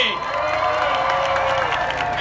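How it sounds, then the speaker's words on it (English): A crowd at a Republican debate in Boulder, Colorado applauds and cheers steadily, with a sustained wash of clapping and some whoops throughout. "Let's hear a wonderful applause for George Ottoby."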